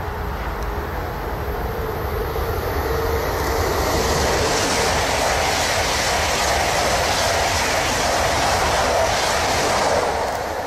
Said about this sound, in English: Where the train coming from?